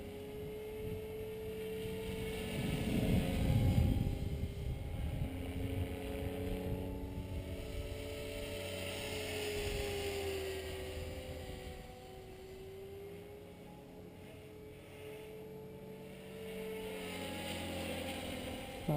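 A TRex 500 ESP RC helicopter with a DFC flybarless head flies on its first test after a crash rebuild, a sustained whining rotor drone whose pitch rises and falls as it moves near and away, with no talk.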